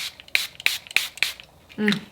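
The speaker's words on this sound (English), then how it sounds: "I'm going to spray a little bit right now because now that I'm thinking about it, I didn't spray it earlier." Jane Iredale hydration face spray mists out in four quick, crisp pumps close to the mic, followed by a brief rustle as the bottle is set down.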